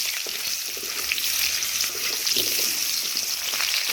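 Potatoes frying in hot oil with cumin, bay leaf and dried chilli in a kadai, giving a steady close sizzle and crackle with no talking.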